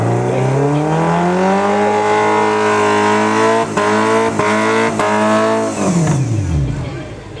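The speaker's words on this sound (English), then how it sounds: "Heating up the tires a bit, using that front wheel drive." A front-wheel-drive rock crawler at a 2009 all-stock rock crawling event spins its tires on an obstacle, its engine revving loud and rising in pitch over several seconds, with short breaks, before dropping away.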